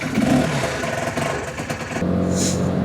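Motorcycle engine revving and droning steadily on a late-night ride through Paignton, close and continuous with a shift in pitch partway through.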